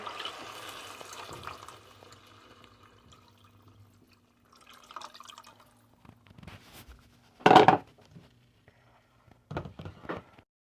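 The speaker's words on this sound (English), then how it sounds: "You're going to add your water." Water poured into a pan of red rice layered with garlic, a brief splashing pour amid quiet kitchen clatter and a few later drips and knocks.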